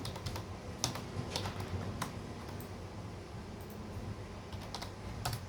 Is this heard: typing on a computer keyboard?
yes